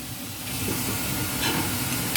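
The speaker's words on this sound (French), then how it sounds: "Donc là pour les garder, je rince à l'eau chaude." Hot water rushes and hisses steadily from a tap as cooked spaghetti is rinsed, a continuous spray with no talking.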